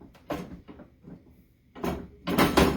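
Small drawers of a Stampin' Up! stamp case slide open and shut in a series of short scraping glides and soft knocks, close by, growing louder toward the end.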